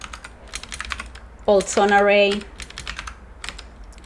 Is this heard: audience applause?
no